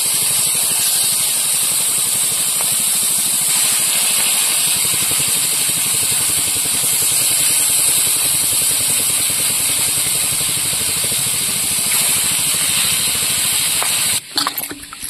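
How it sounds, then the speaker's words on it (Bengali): A large three-kilo mud catfish from the Matla river frying in a little oil in a wok, with a loud, steady sizzling hiss and spitting oil. The sound is unbroken, with a brief clatter at the very end. "কড়াইতে অল্প করে তেল দেবো, দিয়ে মাছ ভাজবো, না হলে মাছটা ফাটছে, চারিদিকে তেল ছিটকে যাচ্ছে।"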